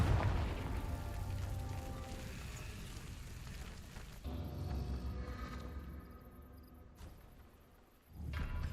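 Confringo fire spell blasts in the video game Hogwarts Legacy, a booming burst with rumbling low end that fades over several seconds, then a second thump near the end amid game music and effects.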